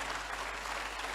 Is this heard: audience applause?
yes